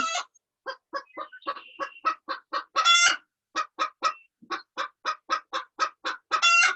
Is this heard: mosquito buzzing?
no